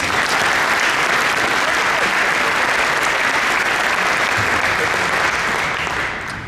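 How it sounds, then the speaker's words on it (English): A luncheon audience at an economic forecast event gives sustained, dense applause that fills the room, loud and steady before tapering slightly at the end. "Let's give them all a round of applause."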